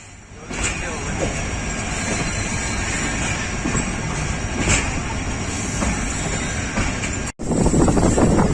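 Millat Express passenger train arriving at a platform, a loud, close, continuous rumble and roar of rolling carriages with broadband clatter, a few brief louder bursts, and a short cut near the end.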